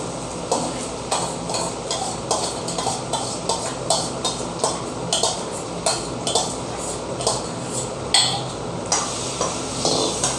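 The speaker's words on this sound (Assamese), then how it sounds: "এয়া ধুনীয়াকৈ বিলাহীৰ লগত আলুখিনি মিলাই দিছে আৰু 10 মিনিট এনেদৰে ফ্ৰাই কৰা হ'ব" Potatoes frying with tomatoes in a home kitchen pan, stirred steadily with a utensil: a rhythmic series of scraping clinks over a constant sizzle, close and fairly loud with no talking.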